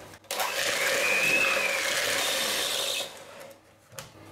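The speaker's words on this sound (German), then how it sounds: "Und erstmal verrühre ich nur Butter und Zucker." An electric mixer beats butter and sugar together for a pear cake batter. It gives a steady, loud whirring drone for about three seconds, then cuts out, leaving a faint clink and quiet.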